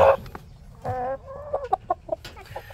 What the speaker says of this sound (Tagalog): Yung dalawang barako natin.